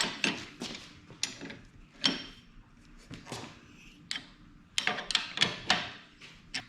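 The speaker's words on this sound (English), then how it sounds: "Now, I'm gonna tighten this, this top nut down. And it's a 19mm wrench." A 19mm wrench tightens the top nut on a Bilstein 5100 strut while fitting a leveling kit to a 5th gen Toyota 4Runner, with irregular close metallic clicks, ratcheting and clunks and no talking.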